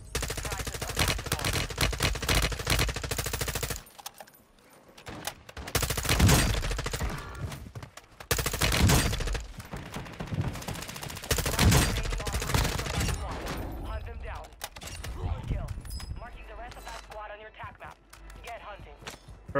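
Rapid bursts of M4 rifle fire from Warzone 2 ring out loud and close across the stretch, separated by short lulls. Game voice lines and a player's talk come through between the volleys.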